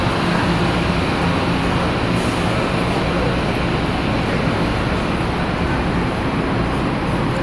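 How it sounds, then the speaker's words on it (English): A train pulls into 69th Street Terminal with a steady, loud, broadband rumble of wheels and motors that fills the whole stretch without letting up. "There goes the train coming in."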